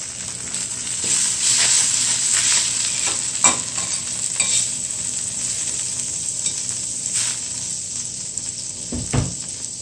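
Butter melting over very low heat in a pan for a vegetable omelette, giving a continuous close frying sizzle with occasional stirring scrapes and a few soft knocks, no talking.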